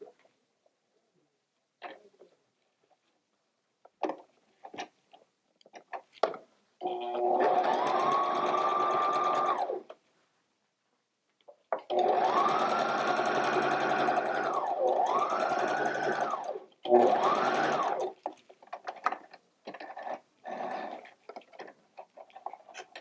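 Sewing machine stitching improv quilt strips, running in three bursts of steady mechanical whirring with rising and falling speed, separated by quiet gaps and light handling clicks.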